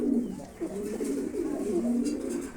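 Pigeons at a pigeon farm coo in low, soft repeated calls, a few overlapping coos rising and falling close by against a faint background murmur.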